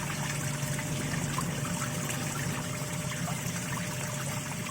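A Samsung washing machine in its wash cycle with water in the drum, turning only one direction, produces a steady sloshing, trickling wash and a constant motor hum, close and unbroken throughout.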